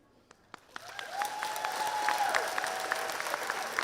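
Scattered claps build into steady applause from a crowd at a high school graduation ceremony, moderately distant, with sharp individual claps standing out.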